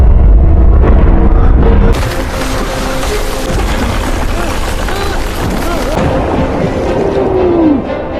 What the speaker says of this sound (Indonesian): tiba-tiba saja terjadi ledakan besar yang membuatnya tenggelam